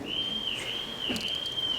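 A ship captain's shrill whistle blown to summon children, a long steady high tone held for nearly two seconds with a slight dip in the middle, clear and fairly close.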